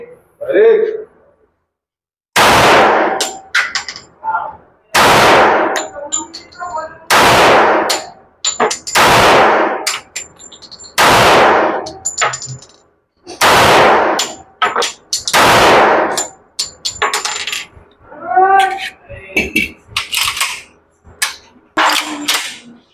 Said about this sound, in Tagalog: So try ulit natin itong 1911 natin na Kimber.